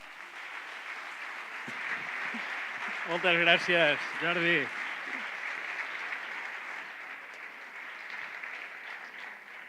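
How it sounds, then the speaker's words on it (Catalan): A theatre audience at a 50th anniversary event applauds in a steady, broad wash of clapping, while someone briefly speaks over it partway through. "Un fort aplaudiment, si us plau"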